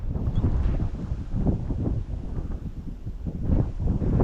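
Strong wind buffets the microphone with a continuous low roaring rumble that surges and eases throughout, loud and close.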